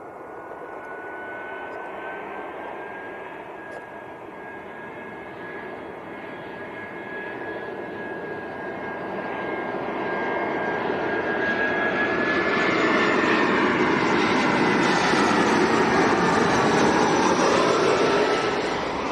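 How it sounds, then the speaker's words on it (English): An EasyJet Airbus A320 from Belfast at Leeds Bradford Airport approaches with a whining engine tone over a broad roar that grows steadily louder and nearer, sweeping in pitch as it passes, no talk. "EasyJet from Belfast, A320."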